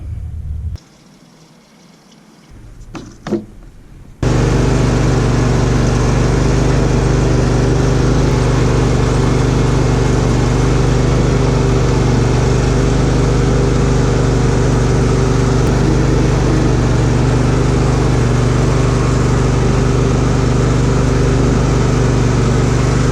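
Riding lawn mower driven after a steering repair: after a few quiet seconds of handling noise, the engine roars up close and runs loud and steady for the rest of the clip.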